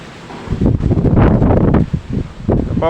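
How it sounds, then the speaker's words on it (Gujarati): Gusty wind blowing outdoors on a cloudy, rainy day, a rough broadband rush buffeting the microphone in surging waves, loud and close, with no voices. "જો પવનનો અવાજ સાંભળો તમે"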